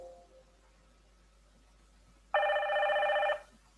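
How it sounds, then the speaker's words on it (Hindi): A built-in PowerPoint telephone ring sound effect plays once, a loud electronic ringing burst of about a second that starts abruptly after a quiet stretch, with no talk over it. "इसी तरह से ये टेलीफोन की साउंड है।"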